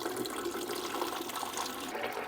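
Water pours steadily into the reservoir of a Costco Infinity X1 solar misting fan, a continuous splashing, gurgling stream at moderate distance with no talking.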